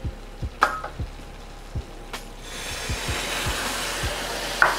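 Jamaican rum and banana liqueur hit a hot pan for Bananas Foster French toast, starting with a few soft knocks and clicks, then a broad hissing sizzle that swells and holds near and fairly loud.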